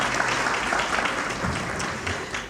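Audience applause at a breakfast event, dense steady clapping from a room of people filling the short stretch.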